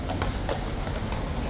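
Hooves of a restless King's Guard horse clatter steadily in a yard, a dense, loud, continuous clip-clop with no talk over it.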